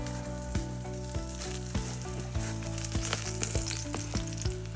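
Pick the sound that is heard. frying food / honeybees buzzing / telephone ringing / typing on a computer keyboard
frying food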